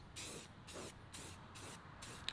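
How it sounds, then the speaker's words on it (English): A spray paint can hisses in several short bursts onto speaker bezels, each a soft rushing spray separated by brief pauses, fairly quiet and close. "put our spray can"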